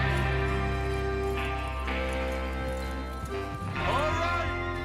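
Horses clip-clopping in the Red Dead Redemption 2 video game, a run of hoof steps under a continuous musical score, with talking layered over it.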